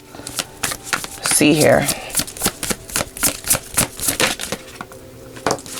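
Cards from a Muse Tarot deck are shuffled close up in quick, riffling bursts with a steady rhythm of flicks and slaps. A person speaks briefly over the shuffling.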